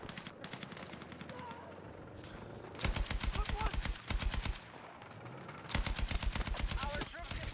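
Rapid automatic gunfire from a weapon in Battlefield 6 rattles out in three sustained bursts separated by short pauses, sharp and close against game ambience, with someone talking quietly in between.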